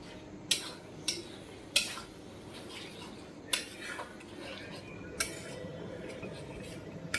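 Chicken frying in oil in a pan while a metal spoon stirs it, giving sharp scraping clinks at irregular intervals over a steady sizzle, with people talking faintly nearby.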